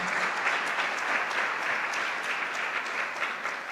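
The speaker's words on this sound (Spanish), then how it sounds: "Un fuerte aplauso, por favor, al Padre Gerardo." Audience applause at a national catechesis congress, a steady dense clapping from a crowd that holds at an even level for a few seconds with no voices over it.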